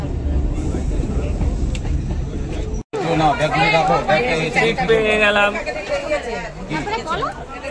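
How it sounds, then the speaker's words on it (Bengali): Steady low rumble of a moving passenger train carriage with people chatting nearby throughout. "আমরা এখন ট্রেনে"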